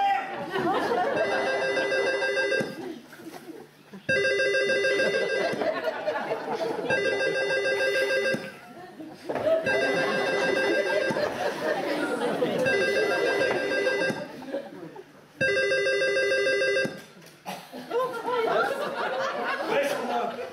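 An old-style telephone bell rings in repeated long bursts, about four rings separated by short pauses, loud and clear, with people chattering and chuckling between and under the rings.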